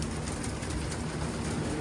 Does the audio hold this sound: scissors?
no